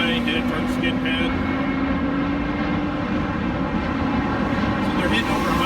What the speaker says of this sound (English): So they're hitting over 100 miles an hour on this course. It's a 911 Carrera GTS.